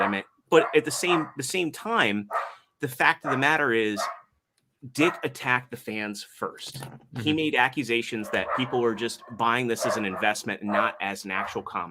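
Dogs bark in a room while someone talks continuously, the barks mixed under his speech.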